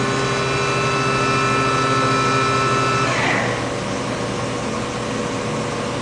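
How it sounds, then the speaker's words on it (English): A Kitamura MyCenter 1XIF vertical machining center hums steadily through a simulated tool change on its 30-tool changer, with a brief rising mechanical sweep partway through over a constant close machine drone. "We just simulated a tool change."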